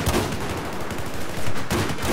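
Rapid gunfire in Battlefield 4, close, loud bursts of automatic shots firing in quick succession and running continuously through the short stretch, with heavier cracks toward the end.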